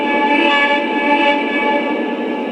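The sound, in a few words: Lionel CSX SD40-2 model train locomotive whistle sound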